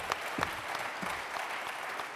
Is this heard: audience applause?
yes